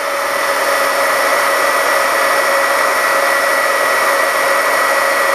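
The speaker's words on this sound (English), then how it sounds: "I just take my embossing gun" An embossing heat gun blows in a loud, steady broadband whoosh with a constant airflow roar, close and unbroken for the whole stretch, with no talking.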